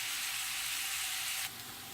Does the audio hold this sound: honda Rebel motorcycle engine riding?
no